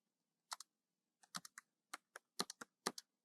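Quiet keystrokes on a computer keyboard come in small irregular clusters of sharp, close clicks against near silence.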